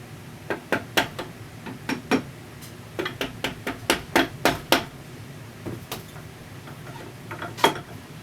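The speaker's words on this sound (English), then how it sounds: "this gap's a little bit tighter than my pliers would allow, so I just gotta use some screwdrivers" Screwdrivers prying apart the gear assembly of an AX15 manual transmission during a teardown: irregular metallic clicks and taps, some in quick bursts, moderately close and fairly quiet, with no talking.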